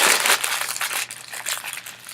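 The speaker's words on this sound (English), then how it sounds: "grab a section of the newspaper and find one of these smaller ones" Crackly, rustling crumpling of newspaper, close and continuous, in uneven bursts.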